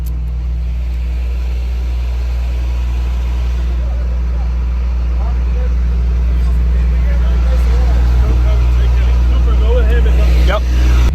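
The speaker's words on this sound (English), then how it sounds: "All right, so we're on the tow truck." A tow truck hauling a wrecked 2JZ-swapped Camaro along a racetrack, its engine droning steadily and loudly at close range, with a slight rise in intensity toward the end and faint background noise.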